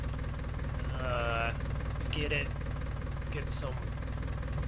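A tractor engine idles in a Missouri farming roleplay video game, giving a steady, low mechanical hum that runs throughout beneath a person talking.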